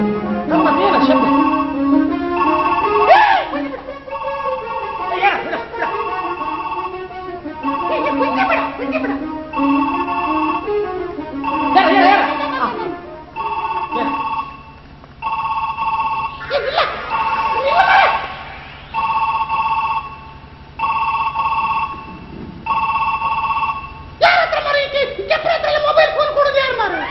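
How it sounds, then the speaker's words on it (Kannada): A mobile phone on stage in a Kannada comedy drama rings with a repeating electronic telephone tone for a long stretch. Voices talk and react over the ringing throughout. "ಆವಾಗದಿಂದ ಮೊಬೈಲ್ ಫೋನ್ ಕಿಣಿ ಕಿಣಿ ಕಿಣಿ ಕಿಣಿ ರಿಂಗ್ ಆಗ್ತಾ ಉಂಟು"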